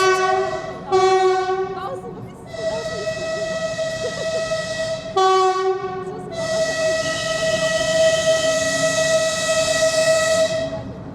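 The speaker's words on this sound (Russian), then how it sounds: "Ух ты, пух ты, прибывает наш поезд." A train sounds its horn in long sustained blasts, broken by a brief gap, while rumbling and squealing rail noise continues underneath.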